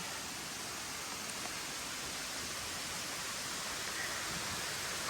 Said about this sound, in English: Just climbing up these hills next to this waterfall.